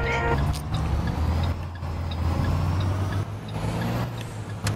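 Heavy road traffic in a video game rumbles continuously, with trucks and the hiss of air brakes over a low engine drone, and faint talk mixed underneath.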